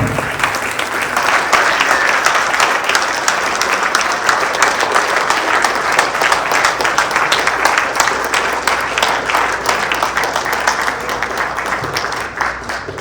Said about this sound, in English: Let's stand up and give him a huge round of applause.